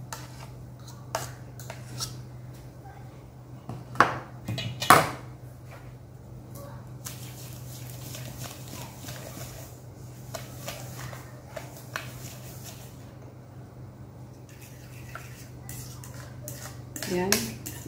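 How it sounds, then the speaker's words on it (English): A spoon stirs dry and wet banana cake batter ingredients together in a mixing bowl, giving soft scraping with a few sharp clinks against the bowl, over a low background hum. "i-combine na natin ang ating dry ingredients sa ating wet ingredients"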